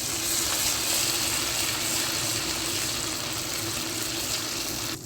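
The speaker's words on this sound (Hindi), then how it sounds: "अभी इसमें हम डाल देंगे अदरक लहसुन का पेस्ट और इसको भी अच्छी तरह से भून लेंगे" Ginger garlic paste fries in hot oil with browned onions, giving off a steady, even sizzle that hisses without pause and with no talking.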